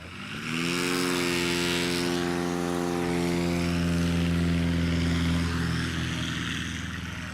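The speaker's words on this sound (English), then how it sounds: "Was Warren Grobelar in the Cessna 180?" A Cessna 180 single-engine plane roars by at an airshow, a loud, steady propeller drone that swells quickly, holds, and slowly shifts pitch as it passes close by.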